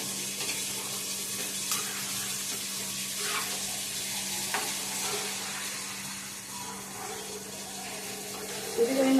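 Steady sizzling of food frying in a pan, with a low electrical hum underneath and occasional soft clinks of stirring.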